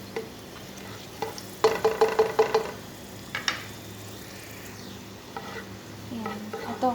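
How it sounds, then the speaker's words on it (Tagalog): Raisins frying briefly in hot oil in a pan for Kabuli pulao, with a bright sizzle and a burst of stirring scrapes that come and go, close and moderately loud. "Yung ating raisin. Konti lang, papulahin lang po ng konti. Fried lang po ng konti"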